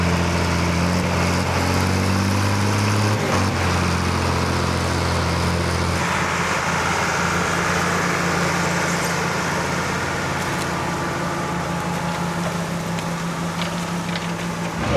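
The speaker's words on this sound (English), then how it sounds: "It's a front wheel assist tractor." An Oliver front wheel assist tractor engine idles at an old-school plow day, a steady loud low rumble that holds for the whole stretch with no talk.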